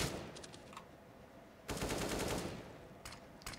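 Gunfire on the Mirage map in CS:GO, coming in short rapid bursts: a brief volley early on, a louder sustained burst in the middle, then a few more quick shots near the end.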